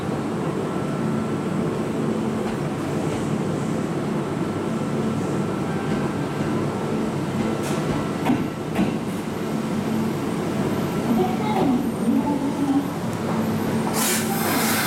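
Kintetsu 2800 and 5800 series trains stand at a station during coupling, with a steady rumble of idling equipment, scattered clanks and hisses, and a sharp burst of air release near the end; no one speaks.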